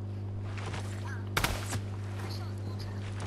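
A single loud gunshot cracks out in Fortnite, a sharp burst with a brief echo over a steady background hum, with speech around it.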